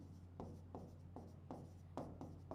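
A pen writes on paper in a run of quick scratchy strokes, each stroke a short burst that repeats roughly every half second over a steady low hum. It is close and fairly quiet, and no one speaks.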